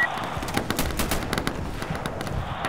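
Rapid, overlapping gunfire from a co-op match of the tactical shooter Insurgency on the Dry Canal map: dense bursts of automatic shots crackle almost continuously for the whole stretch, steady and fairly loud, with sharp individual reports standing out within the barrage.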